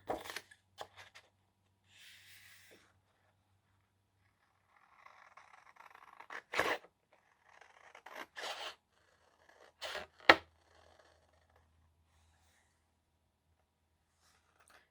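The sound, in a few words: scissors cutting paper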